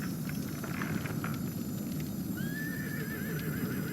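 Horses at a Hinterlands farm with a racing track in Dragon Age Inquisition let out a rising, wavering whinny partway through, over a steady low rumble of ambient noise and hooves.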